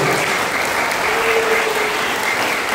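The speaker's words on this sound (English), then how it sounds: "all of us will give the big round of applause to the entire club" Loud, steady audience applause for a Rotary Club at a school service event, dense clapping sustained throughout with a faint voice briefly underneath.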